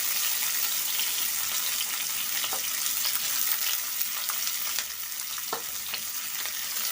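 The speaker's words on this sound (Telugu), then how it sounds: "అదే బాండీలో ఆనియన్స్ ఇంకా పచ్చిమిర్చి వేసుకున్నాను" Onions and green chillies fry in a pan for a dry fish and egg curry, giving a steady, close, bright sizzle throughout with a few faint clinks and stirring taps.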